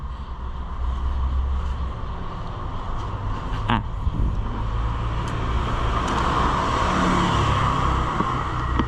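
A 2016 Honda CB500X motorcycle idles, its engine giving a steady low rumble with a constant broadband hum, moderately close, with one brief sharp click midway and no talk.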